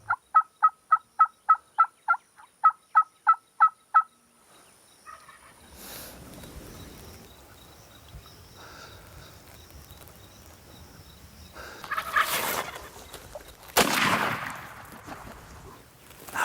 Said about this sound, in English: turkeys started gobbling, and they were kind of gravitating towards us